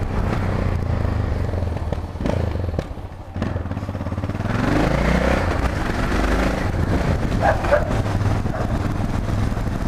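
Motorcycle ride as a passenger on a Yamaha XT 660, the engine rumbling steadily close by with road noise, occasional thumps and clatter, and a brief surge in revving midway.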